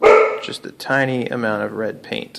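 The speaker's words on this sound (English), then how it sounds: "That's my dog barking." A dog barks and whimpers in a few short, loud yips close by, overlapping a person speaking indoors.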